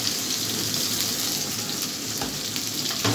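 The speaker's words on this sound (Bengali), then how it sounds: "আর দিয়ে দেবো চিংড়ি মাছগুলো।" Prawns hit hot oil with onion, green chilli and garlic, giving a dense, close, continuous sizzle that stays loud and even throughout.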